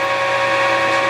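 A Clausing Student 2500 lathe runs at 800 RPM, giving off a steady, close mechanical whine with an even hum and no change over the brief moment.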